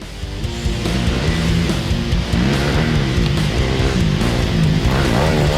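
150cc motorcycles race in a 2016 Ukrainian cross-country championship round near Lviv. Loud, close engines drone and rev continuously, with rising and falling pitch as the bikes accelerate and pass.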